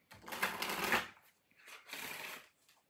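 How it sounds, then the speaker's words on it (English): Halloween oracle cards being shuffled in two quick riffling bursts, a longer one and then a shorter one, close and fairly soft with no talk. "Let me get you a couple of Halloween Oracle cards."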